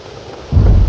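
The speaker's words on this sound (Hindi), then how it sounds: "हे भगवान, इस तूफान को रोको" A deep rumble of thunder rolls in suddenly and loudly, with a hiss like rain beneath it, heard briefly.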